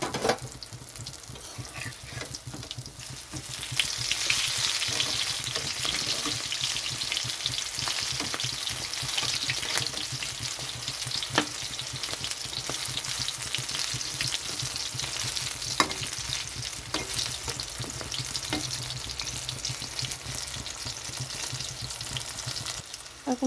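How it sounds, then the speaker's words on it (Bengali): Capsicum chops frying in hot oil, a steady dense sizzle running continuously at close range, swelling slightly louder after a few seconds with faint stirring clicks and no talk. "এখন তেলের মধ্যে এটা ছেড়ে দিচ্ছি ভাজার জন্য।"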